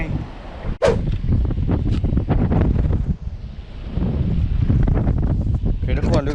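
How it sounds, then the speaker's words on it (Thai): Strong wind roars under a bridge during a sea fishing trip, a continuous low buffeting rumble against the microphone with a sharp crack-like gust near the start. "ก็จบใต้สะพานนะฮะลมน่าจะแรงตอนนี้"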